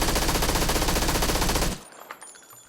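Sustained automatic gunfire from the video game PUBG on PS4, a dense rapid burst that runs loud and continuous before stopping abruptly, followed by faint scattered game sounds.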